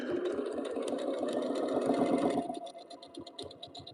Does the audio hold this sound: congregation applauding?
no